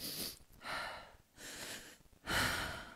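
A person doing a double-breath breathing exercise, with three loud, airy breath bursts separated by short pauses and no talking.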